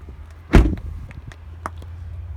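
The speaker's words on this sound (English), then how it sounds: "And the door's shutting a little rough." A salvage pickup truck's door shutting roughly: one sharp, heavy slam up close, followed by faint rattles and a low steady hum.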